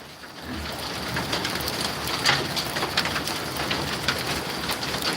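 A hailstorm in the Kobeliaky district of Poltava region pours down as an unbroken, close hiss of impacts, with crisp individual strikes clicking out of the steady roar.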